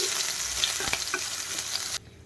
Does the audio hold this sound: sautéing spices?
yes